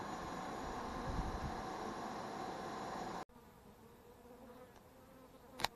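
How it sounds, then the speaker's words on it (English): A dense, droning buzz of many honey bees during a bee removal from a house in Fosters, Alabama fills the first half, then cuts off sharply, leaving a quieter hum with a brief knock near the end. "Still get many bees in there, but I just got the queen."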